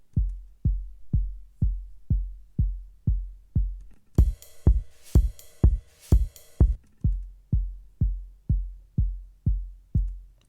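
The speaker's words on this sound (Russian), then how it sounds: "И напомню, как звучит сам оригинальный изначальный пресет DS-Kick." The DS-Kick kick drum preset in Ableton Live thumps in a steady, even pulse of deep, punchy hits about twice a second, with a brief bright percussive layer joining in midway.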